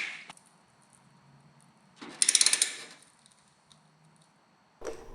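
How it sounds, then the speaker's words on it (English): A torque wrench ratchets on a Harley-Davidson touring bike during a Tour Pak quick-detach kit install: a quick run of about seven crisp clicks, with a few soft handling knocks before and after in a quiet space. "Where's my torque wrench?"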